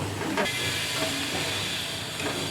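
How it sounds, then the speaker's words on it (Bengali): Hot frying oil keeps bubbling on its own after the gas flame is shut off while corn chaat cooks, a steady close hiss with soft crackle throughout. "গরম যে গ্যাস বন্ধ করে দেওয়ার পরও ফুটে যাচ্ছে তেল একাই।"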